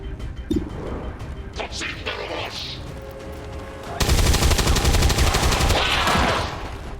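Automatic gunfire from an XCOM 2 firefight erupts suddenly after a quieter stretch of scattered clicks and effects, then roars loud and sustained for about three seconds.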